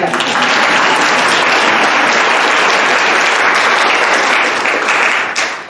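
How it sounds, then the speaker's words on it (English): Dense, sustained audience applause at a talk on White Fragility, loud and close, holding steady for several seconds before tapering slightly at the end, with no talking over it. "That's a clap."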